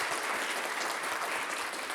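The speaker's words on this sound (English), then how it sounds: "I want another round of applause for not only the Pattis family" An audience at a Chicago storytelling event claps in steady, dense applause that fills the whole stretch at an even level, with no voices over it.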